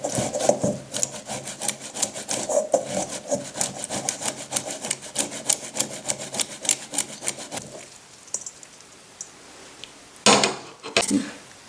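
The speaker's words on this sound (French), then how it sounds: "ce qu'on doit faire, c'est râper la betterave rouge" Red beetroot scraped back and forth on a grater in fast, steady rasping strokes, close and fairly loud for several seconds, then a pause followed by a couple of final scrapes.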